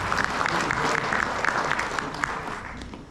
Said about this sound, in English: You can give him an applause.